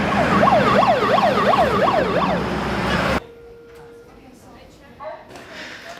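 A wailing ambulance siren sweeps up and down loudly for about three seconds, then cuts off abruptly, leaving quiet background with faint sounds.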